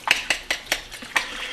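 A spoon stirs molasses in a small container, six evenly spaced sharp clinks against the side in a quick steady rhythm, close and alone.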